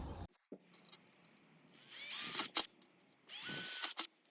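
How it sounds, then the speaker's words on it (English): A drill spins up in two longer runs with a rising whine while pre-drilling holes to mount a Unifi G3 Flex camera, separated by short taps and clicks, close by in a quiet space. "we're gonna pre-drill those real quick"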